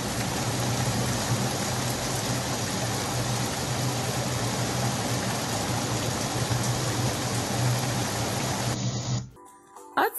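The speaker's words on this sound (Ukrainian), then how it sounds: "А тепер ще один послухайте звук дощу." Steady rain falls in a dense, continuous hiss at even loudness that cuts off abruptly near the end.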